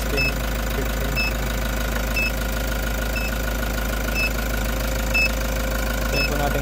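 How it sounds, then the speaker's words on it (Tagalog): A car engine idles steadily through a turbo timer countdown after installation, a low continuous rumble with faint knocking, close and constant, with periodic electronic beeps above it. "Pero maandar pa rin yung makina."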